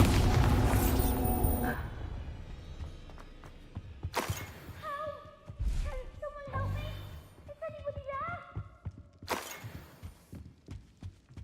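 Spell explosions in Hogwarts Legacy: a loud booming blast at the start, followed by further sharp bursts and shattering impacts spaced across the stretch, with magical tonal flourishes and a voice speaking between them.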